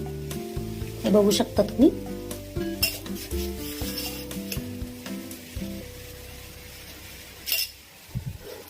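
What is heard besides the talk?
stirring mango sheera with sugar in a pan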